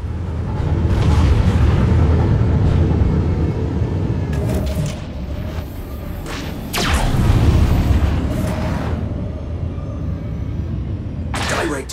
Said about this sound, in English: Brace for missile impact.